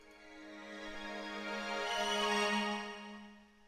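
Sustained strings swell gradually in a soft ambient Asian rock arrangement, their layered tones growing louder before easing at the end, with no voices.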